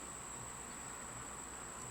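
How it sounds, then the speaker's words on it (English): Steady high-pitched insect trill of a cricket, faint and continuous throughout, heard alone against a quiet background hum. "Well, there's a little cricket."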